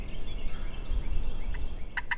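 A wild turkey gobbles outdoors with a loud, rattling call that rolls on for about two seconds, over the low hum of the surroundings, and no one talking.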